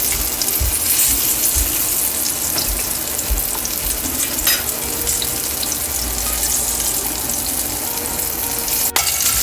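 Sea bass frying in a pan of oil and butter, a steady close sizzle with faint clinks and a brief sharp tap near the end.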